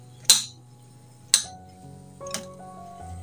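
Grated coconut, sugar and chopped cherries being mixed in a bowl, with three sharp, bright clinks of a utensil against the bowl, spaced about a second apart, close and fairly quiet with no talking.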